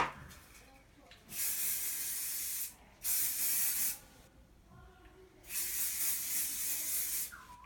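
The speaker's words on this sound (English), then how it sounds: "Good, and give it a spray." Several hissing bursts of hairspray, each lasting a second or more, separated by short pauses, close and fairly loud over a quiet background.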